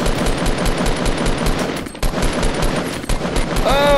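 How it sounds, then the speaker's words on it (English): Rapid automatic gunfire in the video game Fortnite Battle Royale, loud and dense bursts that run almost continuously, with brief gaps and a rising electronic tone at the end. "Oh, somebody shot me."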